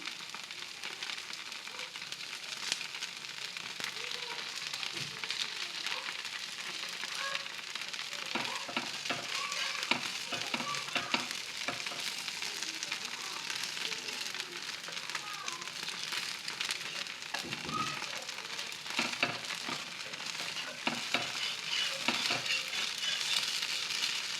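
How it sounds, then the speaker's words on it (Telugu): Food sizzles and crackles in a pan over a medium flame as it browns slowly, a steady fry with scraping stirs and turning sounds scattered throughout. "మీడియం ఫ్లేమ్లో పెట్టి మెల్లిగా కాల్చుకోవాలి ఎర్రగా కాలింది ఇంకో వైపు తిప్పుతున్నాం"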